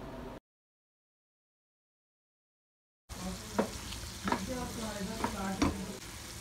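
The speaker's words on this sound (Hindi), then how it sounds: "जब तक इसका कलर चेंज नहीं हो जाता, जब तक मैं इसको फ्राई करते रहूँगी।" Mutton for Hyderabadi tala hua gosht sizzles and frys in a pan with repeated stirring scrapes. A brief burst of frying comes first, then a pause of silence, then steady close sizzling with rhythmic stirring strokes.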